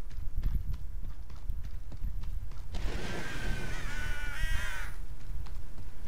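Crows caw harshly several times over a steady clip-clop of horse hooves in the video game Hogwarts Legacy, the calls bursting in loudly mid-clip against a constant rhythmic plodding.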